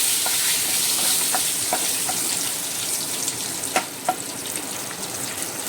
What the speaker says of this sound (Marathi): इतें हिंग घाता हांव आनी भाजून घेता